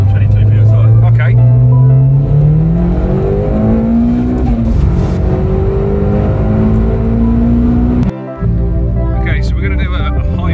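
A 500 bhp Audi TT with a big Garrett G25-660 turbo pulls hard in low boost mode at 22 PSI, the engine note climbing steadily through several gears, loud and close from inside the car, with people talking over it.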